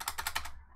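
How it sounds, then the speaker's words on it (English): Quick light keystrokes on a computer keyboard, about five soft clicks in a steady rhythm, close and quiet with no talk. "you're gonna type"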